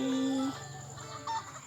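Cartoon chickens cluck in the Township farming video game, a short tonal call followed by a faint second cluck over soft game background music.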